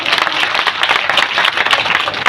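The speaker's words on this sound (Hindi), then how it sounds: "इनका ताली बजा के स्वागत है" An audience at a statewide Mirasi community convention in Jaipur claps in welcome. The applause is dense and continuous, with many hands close together, sustained for a couple of seconds.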